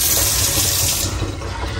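Water runs steadily from the faucet of a newly installed kitchen sink, a loud, close, continuous hiss of flow that eases slightly partway through, with no talking.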